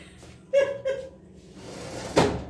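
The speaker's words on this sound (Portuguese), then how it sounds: "deixa eu encostar aqui a porta" A door is pushed closed indoors, a couple of short creaking scrapes followed by a brief soft knock as it shuts, fairly close.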